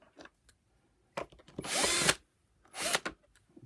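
Power drill whirring in short bursts as screws are driven out of a Vax Rapid Power Plus carpet washer, model CWGRV021, with light clicks and handling noises between two longer runs, close and fairly quiet.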